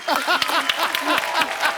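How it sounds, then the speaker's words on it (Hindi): Studio audience on The Kapil Sharma Show applauds for Saina, a continuous patter of clapping with a host's voice running through it. "साइना के लिए जोरदार तालियां।"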